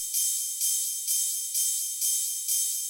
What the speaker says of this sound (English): this really big ride sample